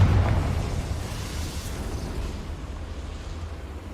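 Fiery blast from the Confringo spell in Hogwarts Legacy, a loud low boom at the start that rolls into a steady rumbling roar and fades slowly over a few seconds, with no talking.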